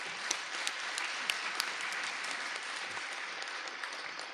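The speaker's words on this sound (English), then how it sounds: "let's give our speakers a wonderful applause" Audience applause for the speakers at a prison outreach fundraising gala: a steady, dense wash of many hands clapping, continuous and moderately loud throughout, with no talk over it.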